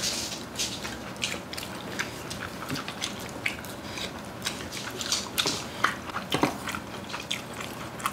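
Crunchy chewing and biting of freshly made godeulppaegi kimchi eaten with soy-braised pork belly, close and loud, with repeated wet crunches and squishes in an uneven rhythm and no talking.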